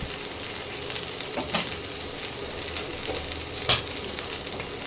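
Masala spices hitting okra in a hot pan set up a busy, close sizzle with scraping stirs and a few sharper crackles.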